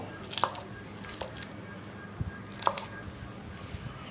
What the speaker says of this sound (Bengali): স্টিলের গ্লাস দিয়ে আমি এটা সেনে নেব